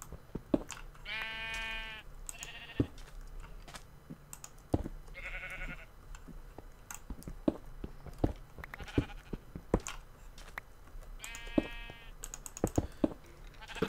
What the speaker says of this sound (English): Get out of here, sheep.